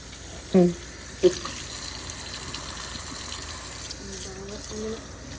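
Tap water runs steadily over cans being washed in a sink, with a couple of sharp knocks near the start and a low voice murmuring quietly in the background.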